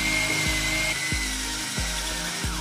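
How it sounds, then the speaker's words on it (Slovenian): Power drill spinning a honing tool inside a cylinder block lubricated with water, a steady whirring drone with a gritty grinding edge, broken by four short regular dips where the speed briefly drops, close and loud. "vrtenje vrtalnega stroja spremenimo oziroma spremenimo smer vrtenja"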